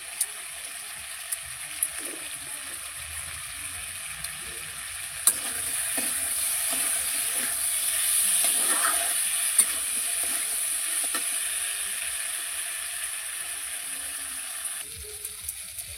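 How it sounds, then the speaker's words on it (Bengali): Potatoes fry in a pan at home with a steady, low sizzle and occasional scraping as they are stirred, fairly quiet and close throughout, with no talking. "তো আলুটা ভাজা হয়ে গেছে"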